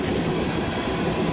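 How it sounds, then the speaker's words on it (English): An ethanol freight train rumbles past at close range, a dense continuous roar of wheels and rail noise with faint clickety-clack filling the whole moment. "This ethanol train is B-700, heading for Chicago, interchange with Union Pacific."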